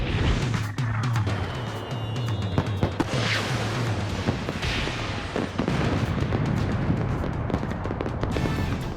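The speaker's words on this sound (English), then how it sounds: "Once the shell explodes, these go off also in their own trajectory." Fireworks shells in a theme-park show launch and burst in a dense, continuous barrage of loud booms and crackles with rumbling low thuds throughout.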